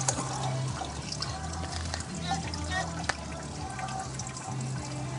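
Liquid drains and trickles steadily out of the engine of a Citroën Xsara Picasso HDI 90 during a timing belt and water pump replacement, with people talking close by over the flow.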